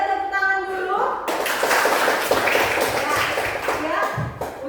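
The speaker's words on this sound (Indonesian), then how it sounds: "Ayo tepuk tangan dulu" Schoolchildren in a classroom clap their hands together in a burst of dense, rapid claps that starts abruptly and carries on steadily, with a teacher's voice heard briefly beforehand.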